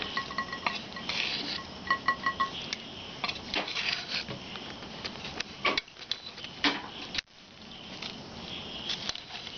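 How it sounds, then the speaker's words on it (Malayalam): Beef biryani being stirred and mixed in a pot, Kerala style, with repeated scraping and clinking of a spoon against the metal vessel, fairly close and steady with brief pauses. "ഇനി നമുക്കിത് നന്നായിട്ടൊന്ന് മിക്സ് ചെയ്യാം."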